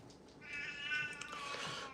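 An elderly cat meows once, a drawn-out, nasal, fairly faint call that rises and wavers for over a second in a quiet room.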